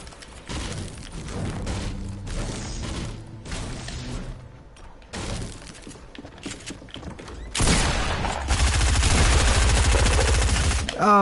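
Shotgun blasts in Fortnite go off amid game noise, with bursts and thuds through the first half, then a dense, loud stretch of gunfire and commotion toward the end.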